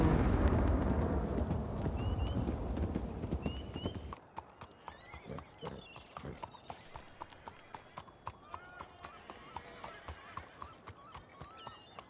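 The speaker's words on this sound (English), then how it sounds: "That's a lot of horses." Many horses' hooves clip-clop in a steady patter amid occasional neighs in a western video game, loud at first, then a lighter scattered trot with whinnies over a quieter background.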